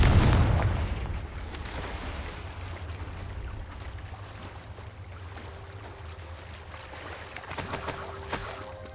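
A single loud Confringo spell explosion in Hogwarts Legacy erupts at the start and fades into a low, rumbling game ambience, with a faint shimmering effect near the end.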